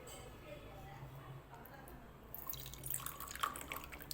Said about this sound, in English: So now I'm going to take a glass and I'm pouring it.